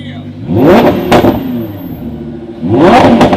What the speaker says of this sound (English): Big dirty burnout, come on.